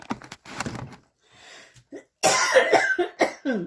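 A bout of harsh, throaty coughs, first a few scattered ones, then a loud, rapid burst of repeated coughing close to the listener.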